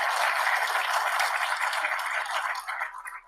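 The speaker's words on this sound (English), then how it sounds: "can we get an extra special round of applause for your first presentation?" An audience applauding after a first presentation at a security conference, a dense steady clapping that fades out toward the end.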